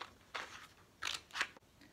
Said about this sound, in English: with the scissors, you can cut them out